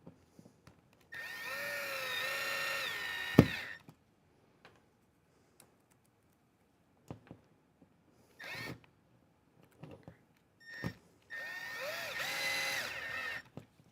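A power drill drives screws during a van build in short whirring bursts, two long high-pitched runs with quiet gaps between them, broken by a few clicks and clatters of handling close by.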